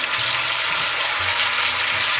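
Vegetables and water go into a pot of seared pot roast, making a loud, continuous sizzling, hissing rush close by.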